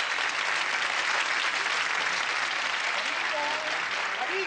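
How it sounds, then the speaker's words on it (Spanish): Steady, dense audience applause fills the whole stretch at an even, sustained level for performers on a comedy stage show, with no clear talk over it. "Fuerte el aplauso para los artistas."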